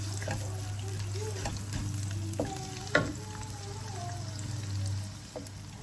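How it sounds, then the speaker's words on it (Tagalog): Onion frying in a pan gives a soft, steady sizzle with scattered clicks and pops, set against a low hum and faint tonal sounds. "Lutuin na natin yung ating onion."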